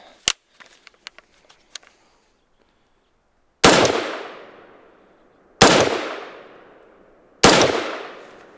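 After a few small handling clicks, a Foxtrot Mike firearm fires three loud, sharp shots, each followed by a long echoing decay, with short gaps between them.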